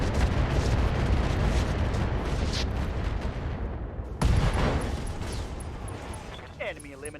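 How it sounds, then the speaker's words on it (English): A destroyed Hornet mech explodes in the RogueTech game as a sustained loud rumbling blast with heavy low-end roar, followed by a second sharp burst and a fading rumble, close and dense. "Enemy eliminated. Kaboom."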